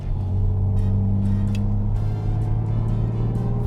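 A 1962 Jaguar E-type Series 1 coupe with its 3.8-litre engine pulls steadily on a farm road, a loud, continuous close engine drone holding a strong low tone throughout as it drives through the gears.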